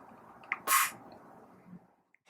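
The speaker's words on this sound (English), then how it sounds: "Once we get to the power plug, go ahead and just press it in and it will clip into position" A power plug presses into the chassis of an Encore, Virtuoso or Preciso and snaps into place with one sharp, loud click, followed by faint handling noise.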